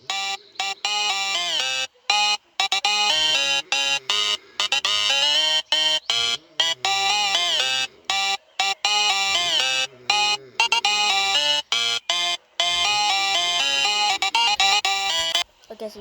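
Character sound of Simon from the Sprunki Pyramixer game: a dense, bright melodic loop of synthetic chiming tones in rapid, choppy bursts with short silent gaps, loud and steady throughout, no talking.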